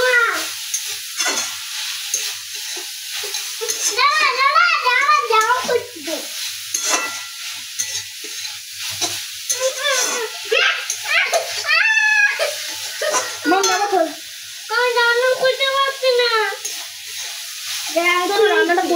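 Leafy greens (saag) stir-fried in a home kitchen pan: a steady sizzle with stirring scrapes runs throughout, with voices speaking over it at moderate volume.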